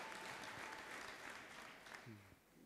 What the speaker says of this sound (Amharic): አጨብጭቡላት ለጌታ አማኝ